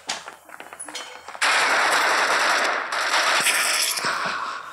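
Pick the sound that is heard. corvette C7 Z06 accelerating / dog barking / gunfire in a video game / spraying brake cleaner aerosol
gunfire in a video game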